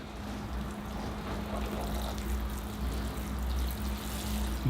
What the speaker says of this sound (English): here I go with some water.